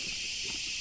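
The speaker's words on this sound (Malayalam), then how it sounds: "നമ്മുടെ ബാക്ക്ഗ്രൗണ്ട് മ്യൂസിക് ആയിട്ടുള്ള ചീവീട് ഇറങ്ങിയിട്ടുണ്ട്" Constant high, shrill chirring of crickets, a dense unbroken drone over faint low background rumble.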